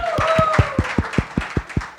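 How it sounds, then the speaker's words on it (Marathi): Slow, evenly spaced rhythmic clapping from the audience at a Marathi film song launch event, about ten firm claps in a steady beat, with a sustained tonal hum fading behind them. "त्यासाठी एकदा जोरदार टाळ्या."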